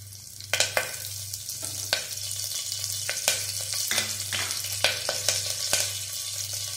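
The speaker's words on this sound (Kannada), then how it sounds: "ಆಯಿಲ್ ಸ್ವಲ್ಪ ಬಿಸಿ ಆದಮೇಲೆ ಒಗ್ಗರಣೆ ಐಟಮ್ಸ್ ಎಲ್ಲ ಹಾಕೊಳ್ಳಿ. ಸಾಸಿವೆ, ಜೀರಿಗೆ ಹಾಗೆ ಕರಿಬೇವಿನ ಸೊಪ್ಪು." Mustard seeds, cumin and curry leaves crackle and sizzle in hot oil as a tempering for radish sambar. Sharp pops burst out irregularly over a steady hiss and a low hum, close by, with no voices.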